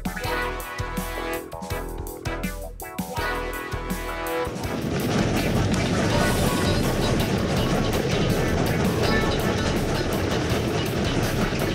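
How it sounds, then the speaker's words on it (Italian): Steam train in Chehalis, Washington, heard as a loud, steady mechanical roar and rumble that swells after a few seconds of clanking, with rail noise sustained through the clip. "Oh, questo è un treno a vapore."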